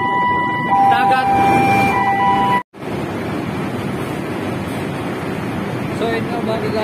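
An alarm goes off aboard a ship beside an oily water separator, with steady tones over loud engine-room noise and talk. The sound cuts out briefly partway through, then the machinery roar continues.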